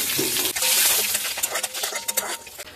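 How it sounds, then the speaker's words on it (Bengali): Whole garam masala, bay leaf and cumin seeds hit hot oil left from frying fish, giving a loud, close, bright sizzle that crackles and fades, with a few light clinks of stirring and no voices. "এবার এই তেলের মধ্যে আমি দিয়ে দিচ্ছি গোটা গরম মশলা, তেজপাতা, গোটা জিরে"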